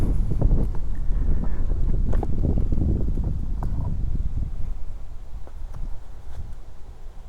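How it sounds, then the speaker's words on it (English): Strong wind buffets the microphone outdoors on a very windy day, a loud continuous rumbling roar with gusty bursts, easing slightly toward the end, and no talking. "Very windy today."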